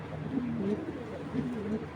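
Black checker racing pigeons, an older male and a young female, cooing in repeated rolling phrases, close and clear over a soft background hum.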